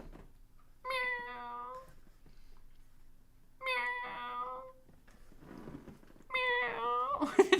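Three separate cat meows from a livestream super sticker, each a clear, drawn-out tonal call with pauses in between, sounding crisp and electronic over a quiet background.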